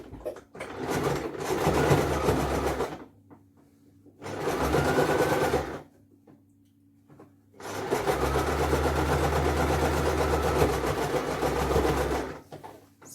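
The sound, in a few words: sewing machine stitching a satin hair bonnet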